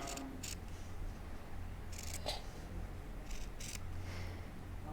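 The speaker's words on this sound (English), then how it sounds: "You're going to cut out little triangles about every inch or so" Scissors snip small triangles into a fabric seam allowance on a halter top, a few quick, crisp clicks close by with short pauses between cuts over a quiet room background.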